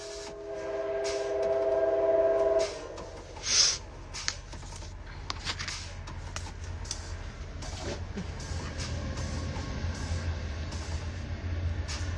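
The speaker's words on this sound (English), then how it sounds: "as the train goes by" A passing train rumbles low and steady at a distance, a continuous heavy drone under a few brief rustles and clicks nearby, with no clear voices.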